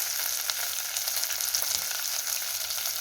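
Sliced onions and green chillies fry steadily in a hot pan, a dense, even hiss with faint crackles, close and alone with no talk.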